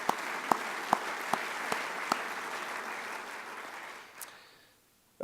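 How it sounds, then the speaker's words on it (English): An audience at a welcoming session applauds for event sponsors, steady crowd clapping with a few loud nearby claps standing out, then tapering off and falling to near silence before five seconds. "Let's give them all a round of applause for their help"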